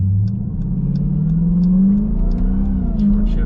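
A Dodge Durango SRT Hellcat SUV accelerates hard in manual mode, its engine roaring loud and steady with a rising pitch through the gears, a deep rumble throughout.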